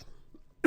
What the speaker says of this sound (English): Pardon me as I cough